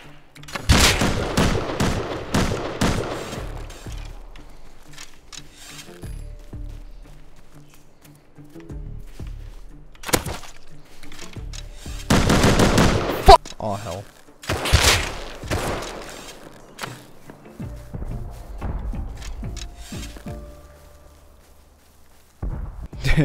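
Gunfire in the Rust survival video game: several bursts of shots crack out in clusters, loud and near at times, with quieter gaps and a few footsteps between the volleys.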